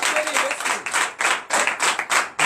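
Worshippers at a night church service of deliverance and prophecy clap rhythmically in acclamation to Jesus, loud, steady beats that swell into applause over faint crowd voices.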